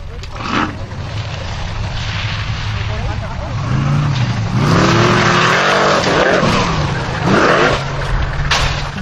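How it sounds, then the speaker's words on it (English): A Formula Offroad car at the Stapafell hill climb in Iceland snarls and revs hard, the engine note rising and dropping as the car tumbles and rolls, loud and close, with a commentator talking over it. "That is one of the most spectacular rolls ever in Formula Offroad."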